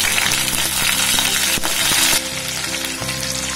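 Spices and peas sizzle loudly in hot oil, a dense crackling hiss with a sudden burst as more goes into the pan, alone without talk.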